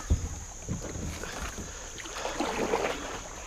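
A kayak paddle dips and strokes through the water on a short stretch between portages, a soft splash and swish of close strokes over light wind noise.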